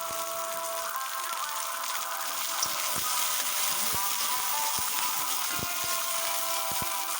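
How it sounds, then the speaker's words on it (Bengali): Vegetables fry lightly in a pan with a soft, continuous sizzle, and a few faint taps from stirring come through at intervals. "এইভাবে সবগুলো সবজি আমি হালকা ফ্রাই করে নেব।"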